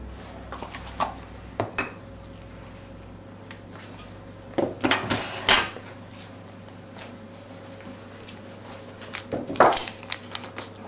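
A spoon works through cake batter made with cornstarch in a bowl, giving sporadic clinks and scrapes against the bowl. The sounds come in short bursts between quiet stretches, with louder clatters now and then.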